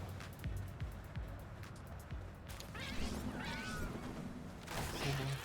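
A cat meows in the Palworld video game, with a few short mewing calls over a steady bed of game sound and background noise.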